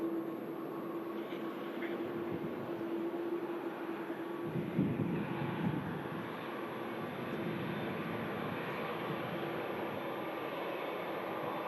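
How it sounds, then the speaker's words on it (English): A TUI jet departing Manchester Airport, heard as a steady, broad distant roar with a low engine drone throughout, swelling slightly midway and holding at a constant level, with no voices. "Another aircraft departing."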